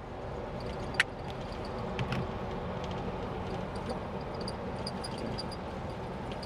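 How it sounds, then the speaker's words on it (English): Inside the rear passenger compartment of a real NYC Checker A-11 taxi cab on the move, a steady low engine and road rumble, moderately quiet, with one sharp knock and a few faint rattles. "Riding as a passenger in the back of a real checker taxi."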